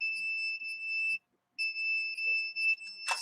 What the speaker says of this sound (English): it's triggering the alarm all the time